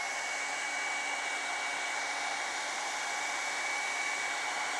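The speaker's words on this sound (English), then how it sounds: "let me run the hairdryer over it so it sets a little bit better" Hairdryer blowing over fresh acrylic paint on a penguin painting, a steady, constant whooshing roar held at even loudness throughout, close to the listener with no speech.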